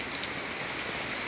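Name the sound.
rain falling on flooded garden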